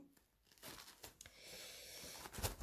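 A tarot deck slides into a small fabric pouch, with close crinkling and rustling that builds through the clip and ends in a brief louder scrape.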